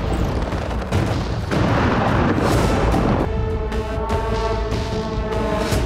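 Drone strikes explode at a Russian airbase: loud, continuous rumbling blasts fill the air, and midway a steady droning tone rises and carries on beneath the heavy booms.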